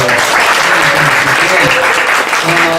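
Church congregation applauding a member taking on a treasurer role, steady dense clapping filling the room, with a voice speaking faintly underneath.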